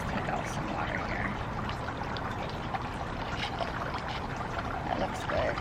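Water pouring and trickling out of a plant container during potting, a steady splashy wash of sound lasting the whole stretch with no talking.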